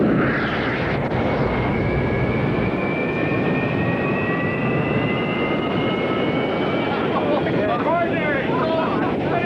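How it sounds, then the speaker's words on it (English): An Avro Arrow jet aircraft roars loudly with its afterburner, a dense, sustained, close engine blast filling the whole clip, with a rising whine and voices heard beneath it. "Get the afterburner."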